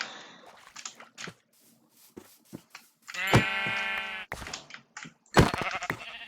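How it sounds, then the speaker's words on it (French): A sheep bleats once in a drawn-out, wavering cry from Minecraft, surrounded by clicky in-game footsteps and block sounds. "si on veut trouver des moutons"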